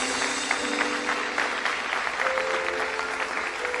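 Church congregation applauding together during a worship service, a steady dense wash of clapping that holds for the whole stretch, with faint tonal music or hum beneath it.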